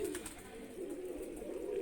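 Pigeons cooing in a low, continuous, rolling murmur, fairly faint and close, with no talk over it.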